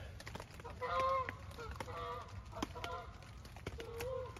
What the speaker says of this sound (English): Those geese have just been flying around here ever since I got out here